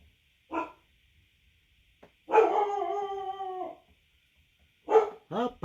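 A pet dog named Coco barks and howls indoors, three separate bursts: a short bark, a long drawn-out howl lasting over a second, then a final bark trailing into yips, with quiet gaps between.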